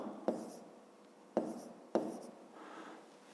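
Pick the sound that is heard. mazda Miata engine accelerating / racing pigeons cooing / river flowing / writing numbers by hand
writing numbers by hand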